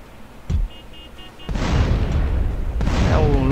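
A grenade explodes in the GTA video game with a sharp boom, then a long, loud rumbling blast that carries on to the end of the clip.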